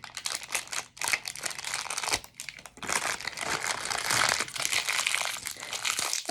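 Cut plastic packaging from a bag of modeling clay gets crumpled by hand, a close, busy crinkling and crackling that runs almost continuously with a few brief pauses.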